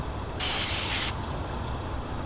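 A loud burst of hissing air lasting under a second escapes from a caravan tyre valve stem as a pressure sensor is screwed on, then cuts off abruptly.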